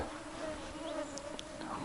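A thin, continuous mosquito whine hovers close by against a quiet, windless forest background, with a few faint bird chirps.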